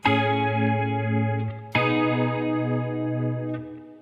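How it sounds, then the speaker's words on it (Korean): An electric guitar with a vibrato pedal set for a lo-fi vintage tone plays two sustained distorted chords, the pitch wavering steadily as each note rings out clearly on its own. "로우파이하고 빈티지한 소리를 만들 땐 비브라토"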